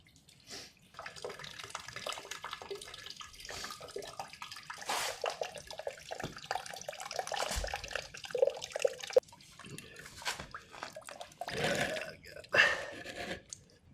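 Coolant draining from a 2024 Beta 390 RR-S dirt bike after its radiator cap is opened, a faint, uneven trickle and drip of liquid running on and off across the stretch with scattered handling noises.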